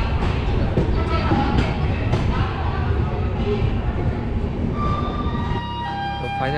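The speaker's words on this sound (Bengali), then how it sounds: "ফাইনালি আমাদের ট্রেন এসে পৌঁছেছে কিষাণগড় স্টেশন।" A train pulling into Kishangarh station platform, with loud broadband rumble and clatter, steady horn-like tonal wails rising near the end, and people talking over the din.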